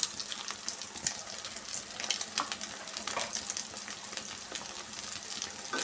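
Egg rice frying in oil in a pan, a steady close sizzle with light stirring scrapes and occasional clinks throughout, no talk.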